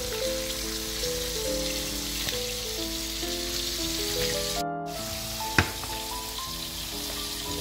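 Potatoes frying in hot oil for a Moroccan dish of fried chicken and spiced potatoes, giving a steady dense sizzle that holds even throughout, with one brief sharp clink near the end and no talking.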